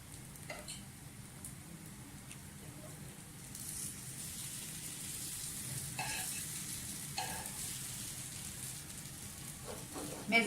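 Potato cutlets with an oats coating fry in a small amount of ghee in a pan. A faint, steady crackling sizzle continues throughout, with scattered louder pops and a slight swell in the middle. No one talks.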